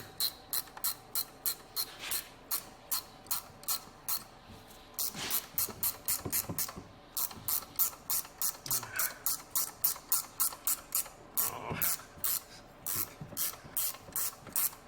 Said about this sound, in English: We'll do the ratcheting 13 here.